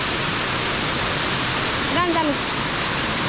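Pokali waterfall pours as a loud, steady, hiss-like roar up close, and a voice speaks briefly over it partway through.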